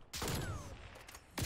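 Gunshot from a sniper rifle in a first-person shooter game, a single sharp loud blast followed by a short ringing tail and a second burst at the end.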